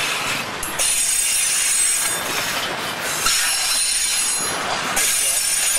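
A train carrying sugarcane juice passes close by, its wagons rolling with loud, steady rumbling and harsh, sustained wheel squeal that swells and fades in waves.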